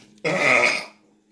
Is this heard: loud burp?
yes